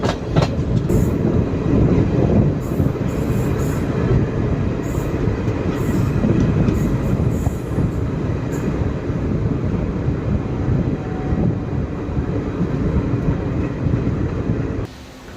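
A passenger train on the Salem–Karur–Trichy line rolls into Mallur station, giving a loud, steady rumble of wheels and carriages that runs unbroken throughout, with no voices.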